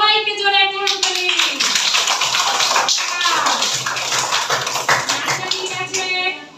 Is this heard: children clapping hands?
yes